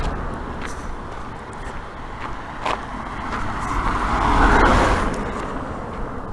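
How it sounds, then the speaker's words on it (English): Two cars, one black and one red, pass by on a road, their tyre and engine noise swelling gradually to a peak near the end before easing off, with steady traffic rumble underneath. "Got two cars, a black car and a red car."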